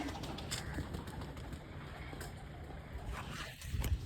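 Pigeons in a loft coo low and steadily beneath a constant wash of background noise, with no talking.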